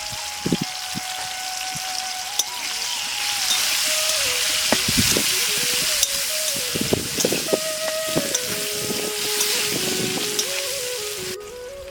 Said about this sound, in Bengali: ফুলকপি ভাজা হয়ে গেছে, তুলে নেবো।